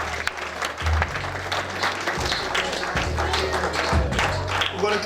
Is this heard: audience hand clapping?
yes